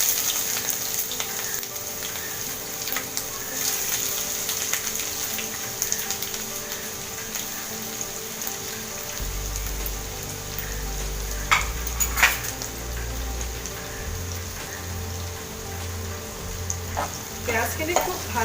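Chopped onions frying with bay leaves in a pan for chicken masala, a continuous bright sizzle with stirring scrapes, a low rumble from the gas flame joining partway through.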